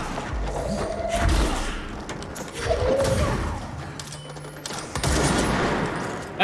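Dense, continuous gunfire in the video game Control, with heavy thumping bursts and crashes rolling over one another for several seconds, loud and close with almost no pause.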